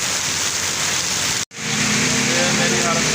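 Heavy, unrelenting rain pours down outdoors in a village, a dense, loud, steady wash of noise broken only by a very brief dropout midway.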